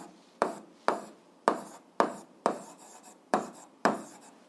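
A pen writing by hand on paper during a physics lesson, producing seven sharp, evenly spaced scratchy strokes, each fading quickly, close and clear with no talking.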